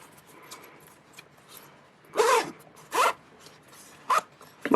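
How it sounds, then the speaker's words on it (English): A zipper on sewn fabric is zipped up in four quick rasping pulls, close and clear, with short pauses between strokes in an otherwise quiet room. "take a moment and zip up the zipper and make sure it behaves the way it's supposed to"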